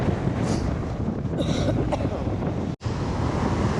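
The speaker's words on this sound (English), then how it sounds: "it's just pretty windy out here." Strong wind buffets the microphone with a constant low rumble on a Lido Key, Florida beach at sunrise, with waves faintly audible behind and a brief dropout near the end.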